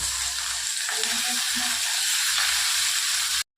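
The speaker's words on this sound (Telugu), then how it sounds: "జీలకర్ర, ఎల్లిపాయలు, పచ్చిమిర్చి అన్నీ దాని తర్వాత అన్నీ వేపుకునేదండి" Cumin, garlic and green chillies fry in hot oil for a tomato and coriander chutney, giving a continuous close sizzle with soft stirring scrapes, then stopping abruptly at the end.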